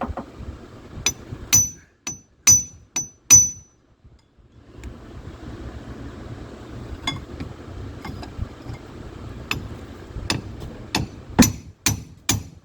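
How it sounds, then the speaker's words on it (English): Hammer striking a chisel to cut a brake line loose under a Ford F150, a series of sharp metallic blows in uneven clusters, close and loud, over low steady background rumble. "Now we'll just chop that dude loose with a chisel."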